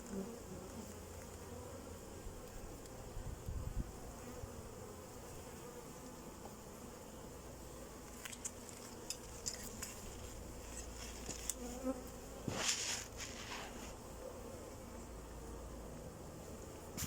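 Honey bees swarm an open beehive at the brood box, a dense, steady buzzing close by and continuing throughout with faint handling clicks.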